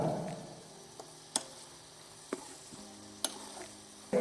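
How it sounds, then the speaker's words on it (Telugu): A spoon stirs onions, tomatoes and green chillies in a pan for a hill-goat mutton curry, with faint frying sizzle and a few sharp, evenly spaced taps of the utensil against the pan. "పచ్చిమిర్చి వేసుకున్నాం కాబట్టి ఇప్పుడు బాగా కలుపుకొని బాగా యాగనిద్దాం"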